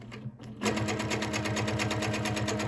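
A sewing machine stitches a squiggly free-motion quilting line across a quilt top, starting after a brief pause and then running in a fast, even needle chatter, close and steady.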